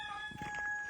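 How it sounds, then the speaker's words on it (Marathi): Farmyard chickens on a rainy day, a few soft clucks close by, brief and fairly faint over a background hum with steady tonal whine. "कोंबड्यांच्या मागं दोघ जण कोंबड्यांच्या मागं पळा जा."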